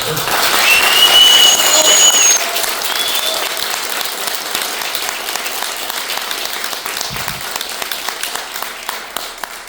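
Audience applause at a panel discussion on early Medellín metal, a loud burst of clapping that settles into a lighter, continuing patter with faint voices beneath.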